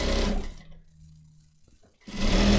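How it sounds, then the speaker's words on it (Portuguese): A sewing machine stitching a ruffle on a chemise dress runs in two loud, close, whirring bursts, one at the start and one at the end, with a quiet pause between them. "e vou costurando"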